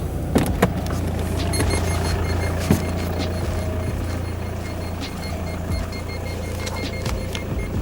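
Steady car engine hum with a repeating electronic parking sensor warning tone running throughout, from newly installed sensors on a Passat, alongside a few sharp clicks and knocks.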